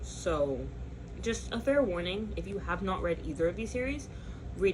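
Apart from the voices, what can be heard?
No distinct noise like a dog, phone or traffic.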